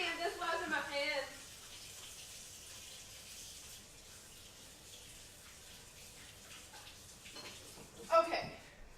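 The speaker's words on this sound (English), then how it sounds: "Let me go wash my hands and then I'll come back to that." A kitchen tap runs steadily for several seconds while hands are washed, a soft, even gush heard fairly close, with a person talking briefly before and after.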